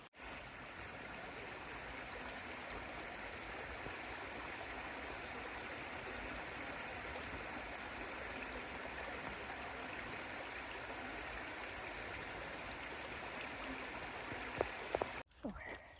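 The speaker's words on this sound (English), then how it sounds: "Lovely creek down here." A creek runs near Lower Shoals Shelter on the Pinhoti Trail, a steady, full rushing of water that continues evenly throughout and is cut off abruptly near the end.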